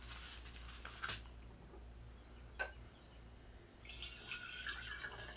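Water poured into a sprouting jar of radish seeds, a soft hiss and trickle rising near the end after a few faint ticks and drips, close and quiet.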